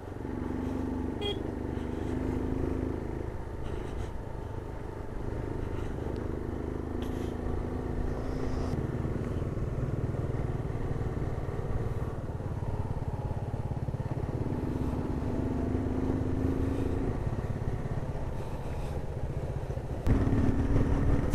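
A Hero Glamour motorcycle ridden off-road on a rough mountain track between Jogighat and Lolegaon, its engine a steady close drone that rises and falls in pitch with throttle and gear changes throughout, with no talking.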